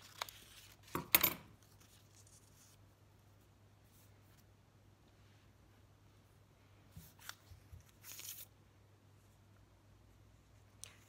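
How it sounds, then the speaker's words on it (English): Scissors snip paper for a sketchbook collage in a few short, crisp cuts, one early burst and two more near the end, quiet and close in an otherwise still room. "I think I'm going to cut this and make it straight."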